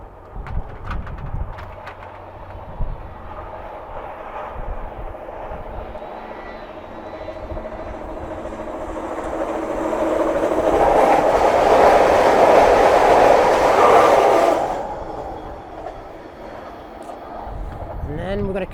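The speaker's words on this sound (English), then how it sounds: "another train coming, this time coming to Kennedy Station." A Line 3 Scarborough RT train arriving at Kennedy Station, rising from a low rumble to a loud, close roar and screech that peaks and then cuts off, with voices and some outdoor noise around it.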